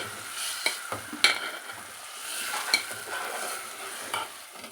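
A spoon stirs gongura and red chilli chutney in a pan, producing soft scraping and a low sizzle with a few sharper clinks against the metal, close and steady, with no voices.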